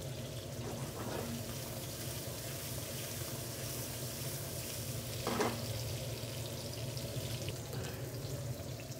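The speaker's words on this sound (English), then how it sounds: "I'm gonna let my skin of the salmon get nice and crisp" Salmon frying skin-side down in a pan with zucchini, garlic and extra virgin olive oil, giving a steady, fairly quiet sizzle with occasional faint stirring sounds.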